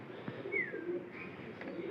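Pigeons coo softly inside a pigeon house, with a few low throaty calls and a faint higher chirp over quiet background noise.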